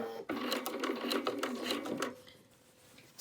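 A sewing machine runs a quick burst of stitches through the binding of a quilted jacket, rapid and close, then stops and leaves a quiet hum.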